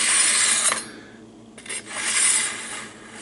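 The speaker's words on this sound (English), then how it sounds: "I'm going to start with slot number 2 because I don't want to sharpen it. I just want to hone it." A knife being drawn through the honing slot of a handheld sharpener: two or three close, raspy scraping strokes with a short quiet gap between them, crisp and bright.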